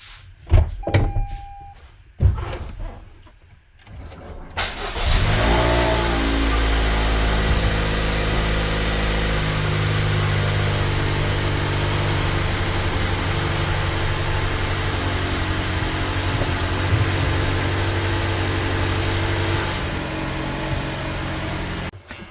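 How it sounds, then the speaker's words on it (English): A 2022 Toyota RAV4 with a 2.0L M20A-FKS engine cranks over after a few clicks and door sounds, then settles into a steady, even idle that carries on alone. "So I'm going to start the car, then have a look."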